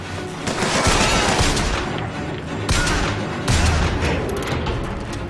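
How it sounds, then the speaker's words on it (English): Gunfire from BioShock Infinite game combat, a dense run of booming shots and bursts close up, loud throughout with a few heavier blasts and no talk. "Real pistol."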